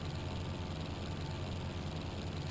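A tractor engine in the LEGO Indiana Jones 2 video game runs with a steady, low idling drone and a broad rumbling hum, with no talk over it.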